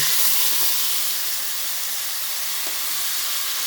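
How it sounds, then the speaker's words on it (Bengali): Boiled crabs fry in hot oil in a wok, giving a steady, loud hiss of sizzling that runs without a break. "আমি কড়ায় তেল চাপিয়ে দিয়েছি এবার আমি এটা ভেজে নেব"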